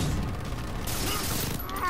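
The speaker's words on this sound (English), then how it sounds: "I'm shooting you," Video game gunfire from Far Cry 3 rattles in a dense, continuous barrage, loud and close throughout.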